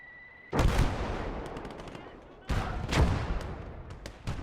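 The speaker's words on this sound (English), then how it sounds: "The power of Soviet artillery." Soviet artillery in a Battle of Stalingrad game booms twice, loud and close, each heavy blast rolling into a crackling, rumbling tail, with a faint high tone beforehand.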